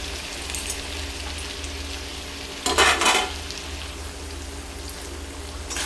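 Rohu fish heads fry in spiced oil in a wok, a steady soft sizzle with stirring scrapes and a brief louder crackling burst midway before settling back to gentle frying.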